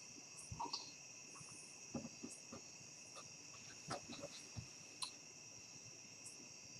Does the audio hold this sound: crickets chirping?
yes